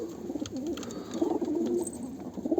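A Filo breed pigeon cooing close by, with soft, throaty repeated coos in a steady run, accompanied by faint background chirps.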